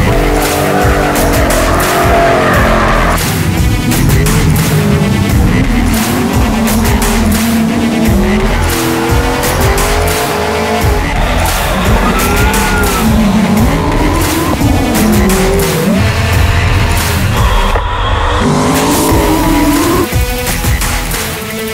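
Drift cars chase each other through a drifting competition, engines revving hard with rising and falling pitch over continuous loud tire squeal, the roar staying close and unbroken throughout.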